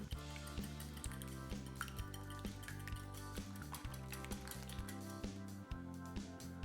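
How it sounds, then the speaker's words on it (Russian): A whisk beats eggs with salt and sugar in a bowl for thin blini batter, a rapid, steady rhythm of light metallic clinks close by with no talking. "Хорошенько взбиваем венчиком."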